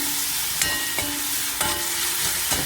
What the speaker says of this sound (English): They're all going in. And we're just going to fry that off for a minute.